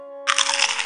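A single short cartoon crunch bursts in after a steady tone, crackly and close, lasting under a second.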